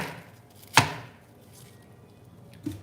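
A knife chops half a head of cabbage into inch-sized chunks, one sharp, loud cut against the board followed by a quieter knock a moment later, with no talking.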